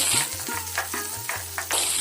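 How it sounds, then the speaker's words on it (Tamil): Curry leaves sizzle and crackle in hot oil while a spoon stirs and scrapes the pan in short, uneven strokes, with a low hum underneath, while making Chettinad fish curry. "கருவேப்பிலை இலைகள் ஆயிலாக நல்லா பொரிஞ்சிருச்சு"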